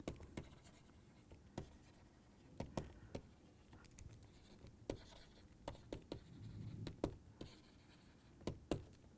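Chalk taps and scrapes on a board during a mathematics lecture on tensor calculus, short sharp strokes in irregular bursts, fairly faint in a quiet room with little talk.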